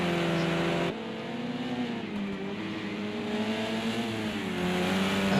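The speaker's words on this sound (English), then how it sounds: "Some really nice clean racing there, with Sausage Miyagi and GRG Jacob battling" Race car engines in the video game Project CARS 2 drone steadily at a moderate level, several cars close together with rising and falling pitch as they work through a series of bends, with no voices.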